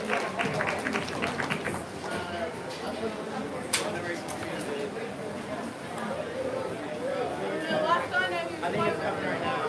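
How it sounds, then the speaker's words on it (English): A crowd at a hog show claps steadily for the full stretch, a dense, even wash of applause mixed with chatter and an announcer's voice on top. "let's give them all a big round of applause"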